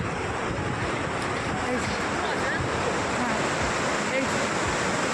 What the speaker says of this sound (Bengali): এই যে জলটা আসছে, এই যে বয়ে যাচ্ছে, এই যে বয়ে যাচ্ছে ওই দিকে